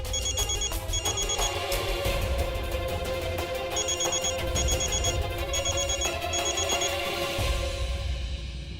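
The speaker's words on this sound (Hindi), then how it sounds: "सृष्टि बहू, रागिनी बहू का बार बार फोन आ रहा है" A telephone rings again and again with repeated incoming calls, a bright trilling ring in short bursts, loud over a steady background bed of music.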